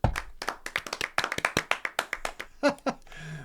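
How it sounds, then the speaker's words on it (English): Sparse, thin clapping from a small group on a songwriting livestream, about a dozen brisk separate claps over three seconds, close and fairly quiet, ending with a short noisy shuffle. "That sounds like a really weak applause"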